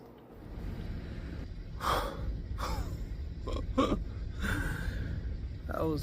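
A person breathes heavily in a crawlspace after crawling through it, with several loud gasps and snorting exhales spread over a few seconds, close to the microphone.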